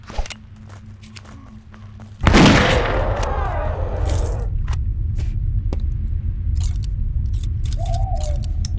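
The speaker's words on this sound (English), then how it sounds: "It made enough noise to draw this hellhound to us, our gunfire." A loud burst of gunfire in a werewolf-hunting video game erupts about two seconds in, followed by rolling echoes and a sustained low rumble, with some faint footsteps and scattered clicks before and after.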